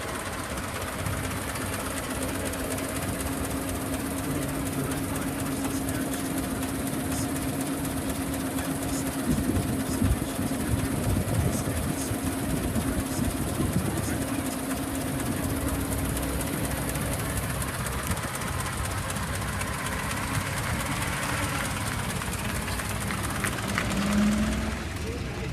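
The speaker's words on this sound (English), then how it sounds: "we're driving a 1912 Model T" A 1912 Ford Model T engine runs at idle outdoors, a steady low chugging rumble with a rough rhythmic knock, continuous and fairly close, while people talk over it.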